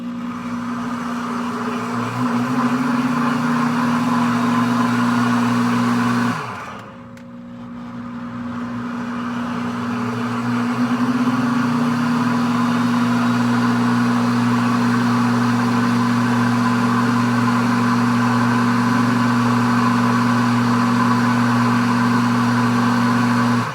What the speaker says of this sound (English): And I'm just going to pulse it until it's mixed.